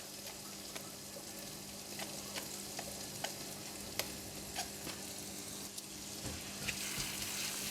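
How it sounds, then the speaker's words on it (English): Garlic and ginger fry in hot oil in a pan, giving a steady, moderate sizzle with occasional sharp crackles and spatters throughout, no voices. "Put in all garlic in oil. A little bit of fried ginger."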